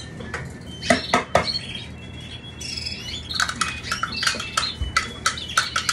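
Canaries chirp and tweet rapidly indoors, with bursts of wing flapping and water splashing as the birds bathe. The calls are close, busy and overlapping throughout.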